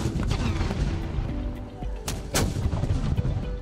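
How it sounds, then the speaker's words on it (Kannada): Ceremonial cannon carts at the Mysuru palace fire during a Dasara 2025 rehearsal with elephants present: heavy booming blasts land around the middle of the stretch, each with a rolling echo, over steady low outdoor rumble. "ಅರಮನೆಯ 7 ಫಿರಂಗಿ ಗಾಡಿಗಳಿಂದ ತಲಾ 3 ಸುತ್ತು ಕುಶಾಲತೋಪು ಸಿಡಿಸಲಾಯಿತು"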